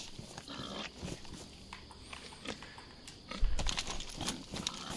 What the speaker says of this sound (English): Yeah, pig.